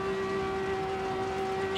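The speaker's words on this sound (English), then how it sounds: "And now the car sounds like a siren," A BMW E36 rally car in a racing simulator game lets out a steady siren-like engine whine, a strong sustained tone with harmonics holding level and loud throughout, with no speech.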